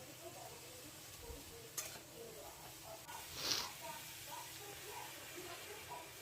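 Garlic and onion frying in a pan for homemade pizza sauce give a quiet, steady sizzle with a few soft scrapes and one brief clink, faint and close.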